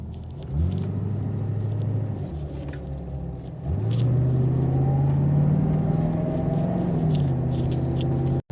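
A Mercedes 450 SLC with a 4.5 litre V8 drives along a country road, its engine droning low and steady, rising in pitch through two accelerations without talk.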